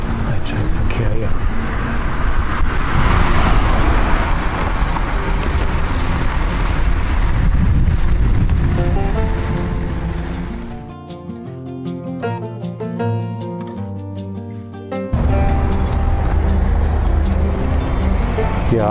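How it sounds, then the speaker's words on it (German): Heavy road traffic in Miltenberg's old town, heard from a bicycle on the Main cycle route: a continuous loud rumble and roar of passing cars and larger vehicles, briefly dropping away mid-way before the dense noise returns. "Ein scheiß Verkehr hier."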